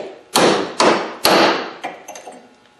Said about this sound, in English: So just like the guys that use the grinder, we will take a chisel.